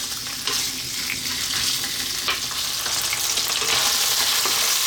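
Cubed beef fries on high heat in a pan, giving a loud, continuous close-up sizzle with occasional stirring clatters and spitting pops, no voices.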